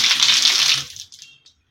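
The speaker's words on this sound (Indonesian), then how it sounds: "Air juga mengalir deras, lancar." A tap at a wudhu and washing spot in a house for sale in Blora gushes strongly with a loud, close hiss of water for under a second, then cuts off, leaving a couple of faint splashes.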